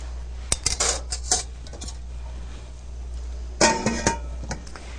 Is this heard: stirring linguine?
yes